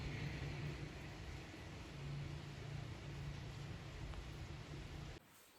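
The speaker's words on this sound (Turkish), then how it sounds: "ay bir yağmur geldi, bir yağmur geldi anlatamam" Steady rain pours down in a dense, continuous hiss, with a low rumble underneath before it cuts off abruptly near the end.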